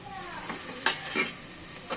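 Ginger-garlic paste and tomato sizzle and fry in a pan while a utensil stirs them, with a few soft scraping knocks over a steady hiss.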